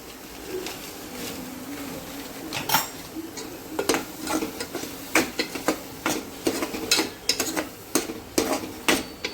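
A utensil scrapes and clinks repeatedly against a pan while spinach rice with Andhra-style spice powder sautés, the taps growing steadier and louder toward the end against a low background hiss.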